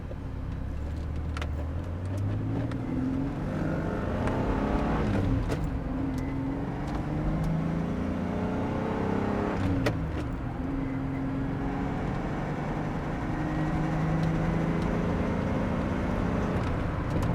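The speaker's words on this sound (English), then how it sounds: "we're going to try to get our 4 gears down here" A 1986 Pontiac Fiero engine revs up and drops repeatedly as it shifts through four gears, rising pitch sweeps under steady road noise, heard from inside.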